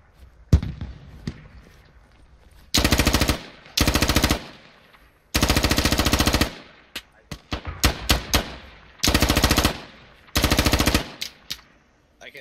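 Gunfire in the Squad video game: loud automatic bursts rattle out in several rapid strings, broken up by short quieter gaps and a few scattered single shots, close and sharp.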